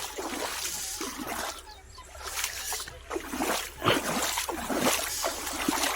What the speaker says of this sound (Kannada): ಈಗ ನೀರು ಚಾಲೂ ಮಾಡಿದ್ದೀವಿ